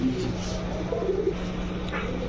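A female pigeon at a pigeon market gives soft low repeated coos close by, over a steady background hum, with a voice faintly audible.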